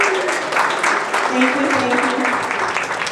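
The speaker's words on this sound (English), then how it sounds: "Can we get an applause for them?" Audience applause for sponsors at a startup week conference session, a steady dense wash of clapping with a presenter's voice speaking over it.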